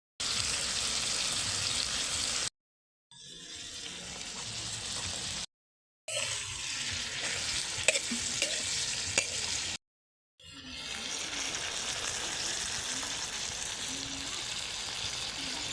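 Offal adobo (lamanloob) sizzles steadily as it fries and is stirred in a pan, with occasional scraping and three short breaks where the sizzle cuts out before resuming.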